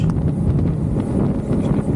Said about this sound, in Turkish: Acayip bir rüzgar var bu arada. Beni resmen dövüyor rüzgar